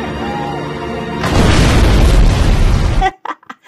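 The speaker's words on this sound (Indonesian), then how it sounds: "kapal jemputan malah meledak begitu saja" A pickup boat exploding in a video game, heard as a single deep, roaring boom that swells and rumbles for nearly two seconds before cutting off abruptly into quieter sounds.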